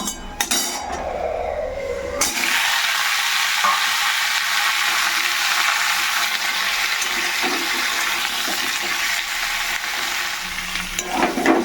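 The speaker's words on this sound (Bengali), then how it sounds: "সবজিগুলো খুব সুন্দর ভাজা ভাজা হয়ে গেছে" Vegetables frying in mustard oil with panch phoron, dried red chillies, bay leaves, salt, turmeric and a little sugar, giving a loud, steady broadband sizzle that runs throughout with no talking.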